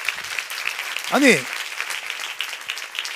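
A church congregation applauds during a Sunday sermon on Acts 8, a broad wash of clapping beneath a voice that rises and falls briefly in the middle.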